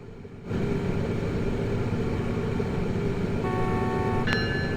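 A SEPTA train in the Open Rails simulator starts up and rolls off, a steady low rumble of running gear and engine that swells in after a brief quiet, with a sustained tone and a short sharp high sound near the end.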